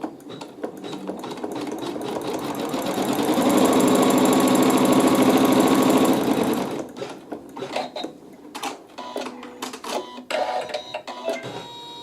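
A sewing machine stitches quilt fabric in a fast, steady whirring burst for several seconds, then stops and gives way to short, scattered handling noises.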